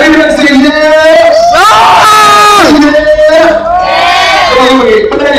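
A live audience at a truck and bus drifting event yells back loudly and repeatedly, a near, sustained wave of shouting voices filling the whole stretch.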